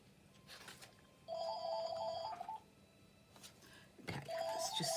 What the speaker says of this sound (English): Excuse the phone ringing in the background.